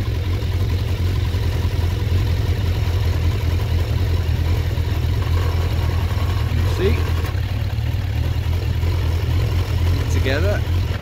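A Suzuki GSF1200 Bandit motorcycle engine idles steadily during carburettor balancing, giving a close, even, low drone that holds unchanged for the whole stretch, with a few faint chirps above it.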